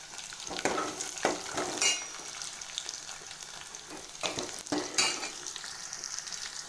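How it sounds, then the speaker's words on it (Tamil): Garlic sautéing in a pan for a tomato kadaiyal, a steady close sizzle and frying hiss with a few stirring scrapes, no talking. "பூண்டு நல்லா கொஞ்சம் நேரம் வணங்கட்டும்"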